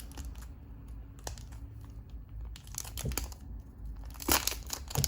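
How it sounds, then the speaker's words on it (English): Tape peeled and crinkled off the packaging of a Moyu RS3M 2021 3x3 cube box, with several short rustling, tearing bursts close by, no one speaking. "Get that tape off right there."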